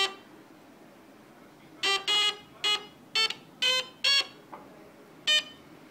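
A homemade electronic piano built on a 555 timer IC in astable mode plays a series of short, buzzy square-wave beeps, about eight separate notes of varying pitch in an irregular rhythm, close and clear over a quiet background.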